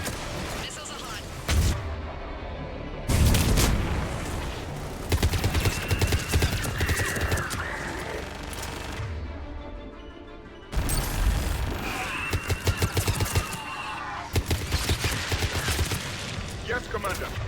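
In a video game, missiles launch and explode in rapid repeated bursts of booms and crackling blasts, loud and dense throughout, with a few clean breaks between volleys.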